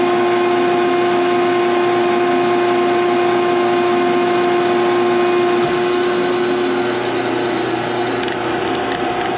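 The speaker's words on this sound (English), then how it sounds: "the lathe knows this is the finish cut, so it knows to bunch up all the chips and scrape everything up" A metal lathe takes a finishing cut on an eccentric part for a toolpost grinder, giving a loud, continuous whine with steady tonal hum and machining noise throughout.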